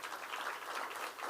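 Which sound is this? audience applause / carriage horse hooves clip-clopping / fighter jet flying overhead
audience applause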